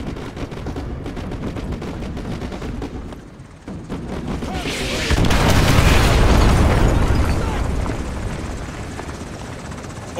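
Artillery strike explosions land in Call of Duty Modern Warfare 2 amid helicopter rotor thrum and scattered gunfire, with a big roaring blast swelling midway and a rumbling tail behind it.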